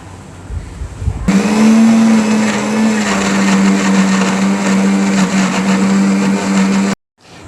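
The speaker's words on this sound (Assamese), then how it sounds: "এইখিনি এতিয়া ভালকৈ মিক্সিত পিচি ল'ম" An electric mixer grinder grinds a paste with added water, switching on with a loud steady whine that runs for about six seconds before cutting off abruptly; the mixer is close and there is no talk.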